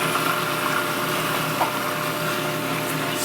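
A food processor whirs loudly and steadily nearby as canola oil is blended into a creamy kale Caesar salad dressing, a continuous motor drone with no pauses.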